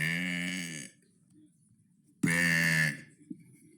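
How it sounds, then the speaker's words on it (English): A person gives two long, loud, drawn-out burps close to the mic, with a short quiet gap between them and a faint grunt after the second. "That was day 70 of burping for 100 days."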